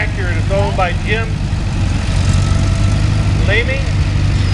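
A 1950 John Deere orchard tractor engine chugs and idles in a parade, a steady low rumble under a loud announcer's voice with brief chirping sounds overhead.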